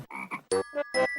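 A frog croaks in a quick series of four or five loud, resonant, throaty calls with short gaps between them, close and clear with nothing else around.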